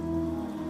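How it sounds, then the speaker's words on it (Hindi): Heavy rain falls steadily as a brief, even hiss of drops on a surface, with no voices and no breaks. "इस तरीके से तेज बारिश में टूनी चिड़िया बिल्कुल भीग गई"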